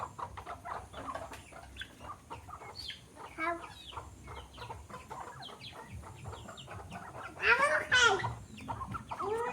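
Chickens on a small farm cluck and chatter in a steady stream of short calls nearby, with one louder squawking burst near the end over low background noise.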